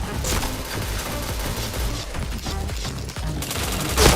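Rapid gunfire in a first-person shooter video game, dense overlapping bursts and shots rattling steadily and loudly throughout, with no talking.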